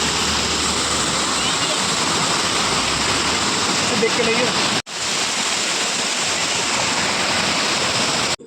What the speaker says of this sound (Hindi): ऊपर से पानी बहता हुआ आ रहा है पत्थरों में से